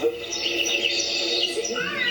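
Steady, bright bird chirps and tweets fill the scene, several calls overlapping at moderate volume with no pauses.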